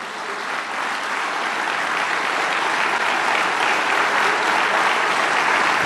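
Sustained applause from a large church congregation, a dense, steady wash of clapping that holds and swells slightly over several seconds.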